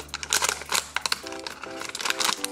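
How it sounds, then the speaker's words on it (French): Small scissors snip and crinkle through a plastic package in a series of close, irregular rustling crunches, with a faint tonal hum underneath. "Moi je sors mes petits ciseaux."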